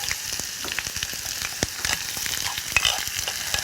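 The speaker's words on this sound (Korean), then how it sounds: "저는 양파하고 당근을 먼저 볶아보도록 할게요." Onions and carrots stir-frying in hot oil in a home kitchen pan, a steady close sizzle with scattered crackles and spatula scrapes, no talking.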